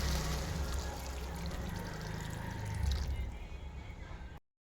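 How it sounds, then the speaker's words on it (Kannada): Water is poured into a potato mixture seasoned with turmeric, salt, chili and garam masala, making a steady splashing rush that runs for about four seconds before cutting off abruptly. "ಇವಾಗ ಇದ್ರೊಳಗೆ ಸ್ವಲ್ಪ ನೀರು ಹಾಕೊಂಡ್ಬಿಡೋಣ ರೀ."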